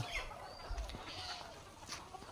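Farm chickens cluck in a few soft, scattered calls at a village poultry farm, faint against quiet outdoor background noise.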